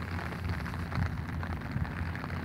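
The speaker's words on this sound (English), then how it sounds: "It's definitely raining." Steady rain at midnight on a beach by the Fraser River in Vancouver patters and hisses over a dull low rumble, continuous and fairly close, with no voices.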